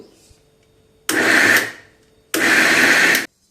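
A mixer grinder blends coarse peanut chutney with added oil in two short, loud, whirring pulses, close by with a pause between them and no talking.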